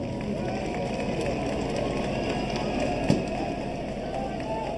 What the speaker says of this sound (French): On applaudit tous ensemble le président Macron.